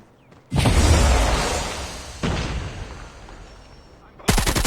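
An HG 40 submachine gun with the Ghoul Bound Prestige skin in Call of Duty Mobile lets off loud, close bursts of rapid fire, a long burst, a second shorter one, then another starting at the end.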